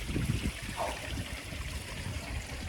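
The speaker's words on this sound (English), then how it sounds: "So having the water going in now, going through the dechlorinator" Water runs steadily through a dechlorinator into a koi pond, a continuous close trickling and splashing wash with a brief gurgle partway through.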